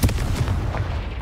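A booming blast from the Confringo explosion spell in the Hogwarts Legacy video game, a dense rumbling burst filling the whole moment, loud and close.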